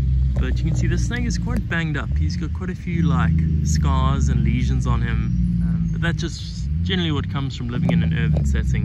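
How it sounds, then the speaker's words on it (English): Steady roadside traffic rumble runs continuously beneath someone talking up close as he examines a brown water snake in an urban setting. "Apologies for the roadside noise, which I believe is quite loud"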